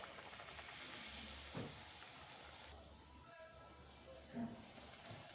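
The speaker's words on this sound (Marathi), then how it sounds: "नंतर एक एक करून पुरी तळून घ्यायची" Puris deep-frying one at a time in hot oil in a kadhai for a Navratri thali, giving a steady close sizzling hiss over a low hum, with a couple of soft bumps.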